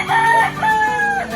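A rooster crows loudly and close by in a village garden, one long drawn-out call with a rising then sustained tone.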